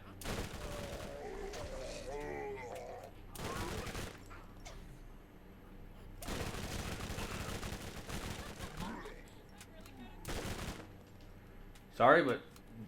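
Gunfire from snipers in the video game Borderlands, in the zombie DLC Zombie Island of Dr Ned, comes as several broadband bursts spread through the scene, with someone talking between and over the shots.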